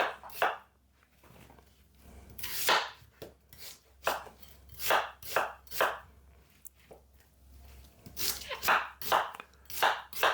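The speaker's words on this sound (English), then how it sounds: "Cut them small enough that they hold in the blender" A knife chops vegetables small on a cutting board in irregular bursts of quick cuts, close and fairly soft, with short pauses between.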